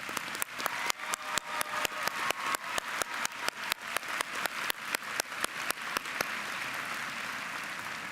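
A large audience at a university commencement ceremony applauds the honors candidates, a dense and steady wash of clapping that begins with a few sharp accents and then holds level without anyone speaking.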